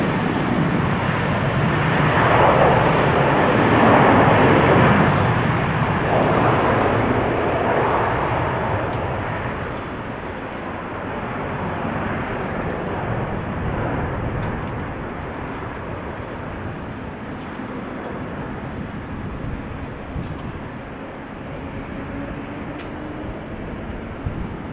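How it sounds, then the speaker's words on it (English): A Qatar Cargo Boeing 777 at Amsterdam Schiphol Airport on a damp runway, a loud, steady jet engine roar that swells early and then holds as a broad, sustained rumble for the full length. "Qatar Cargo 777 next."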